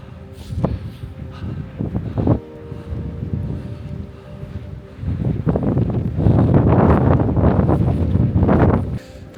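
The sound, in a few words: strong wind on a mountain ridge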